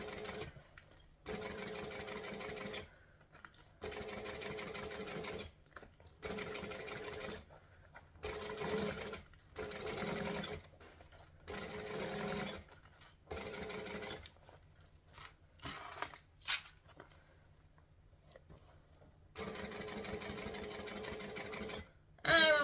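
A sewing machine stitches a curved seam on a fabric circle bag in repeated bursts of rapid, buzzing whir separated by short pauses, close and fairly quiet, with a faint metallic click or two near the end.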